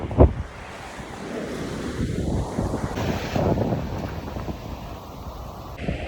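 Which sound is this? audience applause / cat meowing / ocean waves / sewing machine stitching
ocean waves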